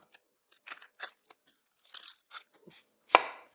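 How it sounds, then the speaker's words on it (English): Knife chopping finely through an onion on a board for a salmon and quinoa Greek salad, a series of crisp, close cuts in uneven bursts with short pauses between them, ending on one louder crunching stroke. "I'm gonna finely slice this onion over here."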